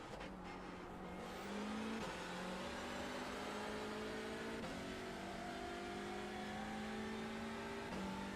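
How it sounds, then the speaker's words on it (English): Honda Civic touring car in the iRacing simulator, its engine droning steadily at high revs with a few brief dips as it shifts gears, loud and continuous throughout with no talk over it. "I do wish they had like, all the touring cars had a bit better sound to them."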